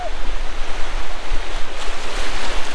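Ocean waves wash steadily onto Alibaug beach on the Indian coast, a continuous loud surf roar mixed with wind buffeting the microphone and no voices.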